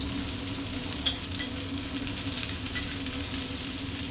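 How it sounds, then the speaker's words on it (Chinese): Shredded onion stir-fries in a hot pan, a loud, even sizzle that holds steady throughout with one small clink partway. "切丝煎炒"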